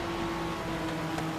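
A car engine drones steadily and loudly under nitrous boost in the racing game Forza Horizon 3, Hot Wheels expansion, holding a constant whine throughout.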